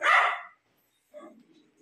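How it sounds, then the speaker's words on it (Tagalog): Dogs in a house under renovation in Novaliches give one sharp, loud bark close by, followed after a pause by a fainter low growl or yip. "At yan may mga aso dito mga boss."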